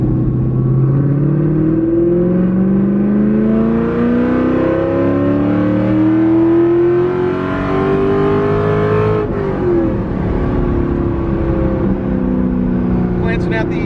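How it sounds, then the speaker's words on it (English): A race-prepared Corvette engine revs steadily upward through a long pull under load during tuning, pitch climbing for several seconds before a gear change drops it, loud and close throughout. "we're going to do a longer pull to stress out the engine a little bit"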